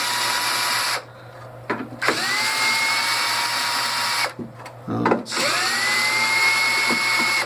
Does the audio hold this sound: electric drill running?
yes